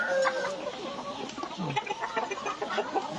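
Breeder chickens, including Barred Plymouth Rock, Black Australorp and Rhode Island Red hens, cluck softly in a farm pen, with scattered overlapping calls close by.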